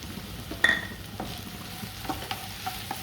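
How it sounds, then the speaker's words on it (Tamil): Soft sizzling of chopped onion sautéing in oil, with a few stirring clicks and scrapes against the pan, fairly quiet and steady throughout. "நம்ம இப்படி எண்ணெயில் கொஞ்சம் வதக்கிடலாம்"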